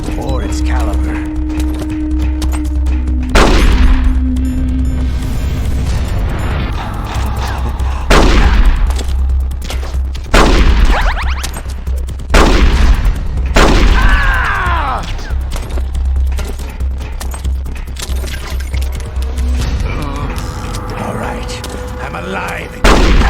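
Gunfire bursts through a Metal Gear Solid: The Twin Snakes game fight, several loud sharp shots and booms spaced across the scene over background music and mechanical clanks, with voices speaking between them.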